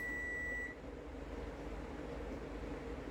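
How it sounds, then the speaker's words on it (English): A kitchen timer going off on a homestead, a steady electronic beep for under a second, then a low rumbling background. "And your timer's going off."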